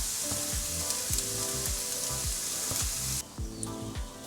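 Shredded cabbage sizzling and frying in a pan over low-medium heat for dim sum egg rolls, a steady close crackle with rhythmic scraping stirs, dropping quieter near the end.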